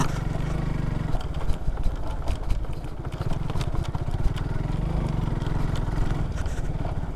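A motorcycle engine droning steadily while the bike rattles and clatters over a rough, bumpy surface, loud and close throughout.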